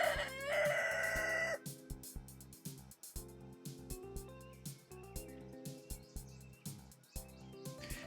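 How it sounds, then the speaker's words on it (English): A video-game rooster lets out a loud, strained crow with harsh upper harmonics, then the game's looping music with rhythmic notes carries on behind it. "Has the Rooster Crow always been that psychotic?"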